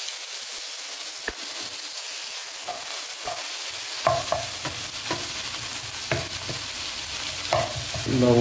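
Onion and green chilli drop into hot oil and fry with a loud, constant sizzling hiss, broken by scattered clicks and scrapes of stirring in the pan, close up with no voices.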